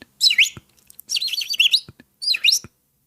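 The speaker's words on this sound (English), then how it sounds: "Ah, this is my birds." Pet birds chirp indoors in three bursts of loud, close, high tweeting with short silent gaps between them.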